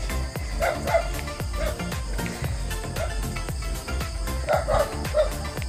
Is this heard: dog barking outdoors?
yes